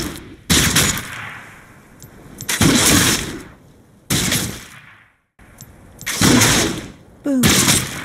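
Rifle shots from Caitlyn in League of Legends, Pool Party skin: five loud, sharp gunshot bursts spaced about a second or more apart, each with a ringing tail, the last followed by a quick metallic click.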